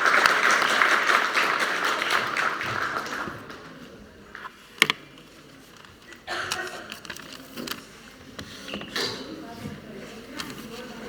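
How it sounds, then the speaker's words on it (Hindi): Students and guests at a class 10 school farewell programme applaud, dense clapping fading out after a few seconds, then scattered claps, taps and shuffling in a quieter hall. "ताली बजाएं आफरीन के लिए"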